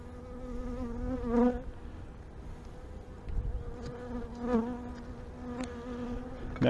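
Agitated honeybees buzz steadily inside an opened hive during a brood-frame inspection, a dense close drone with a few louder swells as bees fly near.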